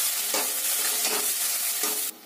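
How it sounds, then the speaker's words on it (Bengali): Thankuni leaves stir-fried dry in a pan without water, a continuous close sizzle with rhythmic stirring swells, cutting off abruptly near the end, no talking. "ভালো করে অনেকক্ষণ ধরে কষাতে হবে, একদম পুরো শুকনো হয়ে যাবে"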